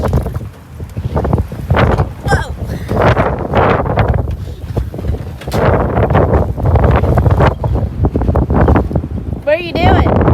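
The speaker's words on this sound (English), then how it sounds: "Look at them flags flying over there. Wind just getting" Strong wind gusting across an outdoor Wild West shootout event, loud buffeting roar on the microphone throughout with flags flapping, while people talk in the foreground.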